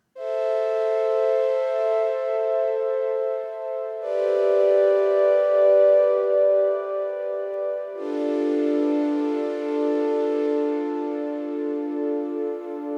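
A sustained synthesizer chord from a Deluge holds steadily, shifting to new voicings every four seconds across three long, smooth chords with no other sounds.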